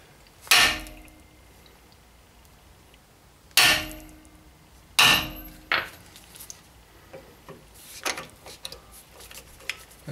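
Hammer strikes on an impact driver to free a brake caliper bolt during a brake disc replacement on an Opel Corsa D, three loud metallic blows spaced a few seconds apart, then softer clinks and rattles of tools.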